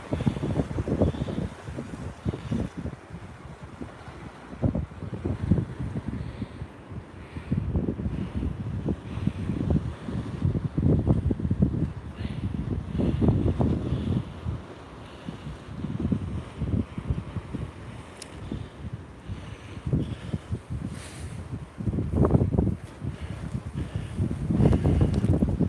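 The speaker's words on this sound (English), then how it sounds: "So I'll pause it for a couple of minutes so you can hear the sea sound." Sea waves and gusting wind on the seafront at the Lowestoft seaside resort in Suffolk, a steady low roar with rolling surges breaking every few seconds, heavy wind buffeting the microphone throughout, no voices.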